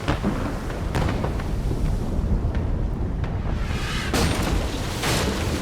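An enemy ship's cannons fire during a naval battle at sea in a video game, producing a couple of dull booming shots over a constant rushing wind-and-water background.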